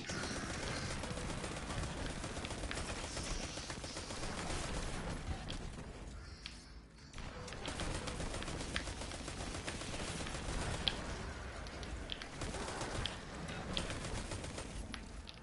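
Sustained gunfire from the Mindbender boss in Destiny Forsaken, a dense mix of rapid shots and explosions crackling steadily and loud throughout, with a brief lull midway.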